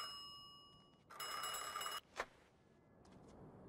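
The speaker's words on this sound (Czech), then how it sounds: "A teď vlastně jsme se vyspali a zvoní na mobil." Mobile phone ringing in the video game Mafia II, a bright electronic ring burst of about a second, followed by a click and a quieter later chirp, with no talk.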